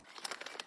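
Sheets of junk-journaling paper crinkle and rustle softly as they are pulled out by hand, a quiet burst of papery crackles with no voices.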